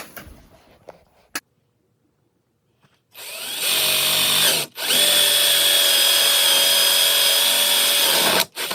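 A power drill bores a 3/4 inch hole for a plug while fitting Ski-Doo snowmobile accessories, a loud close whining run with a brief stop, after a few knocks and quiet.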